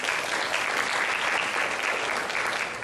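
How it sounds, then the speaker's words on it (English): An audience gives a sustained round of applause at a Prince George's County event, dense, even clapping holding steady for a few seconds and tapering slightly at the end. "Can we give her a round of applause?"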